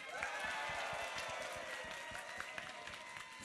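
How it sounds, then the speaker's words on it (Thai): A concert crowd in southern Thailand gives dense, steady applause, many hands clapping at once as a continuous wash with scattered cheering, distant and fairly faint throughout. "ขอเสียงปรบมือดัง ๆ ให้กับคณะศิลปกรรมศาสตร์"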